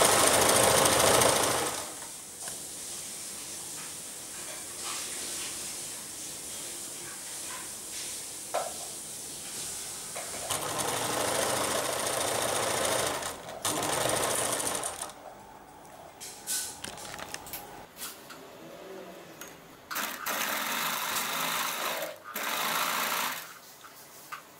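Sewing machine stitching piping onto a neck design, close and loud bursts of rapid whirring separated by pauses and handling noises, several runs starting and stopping.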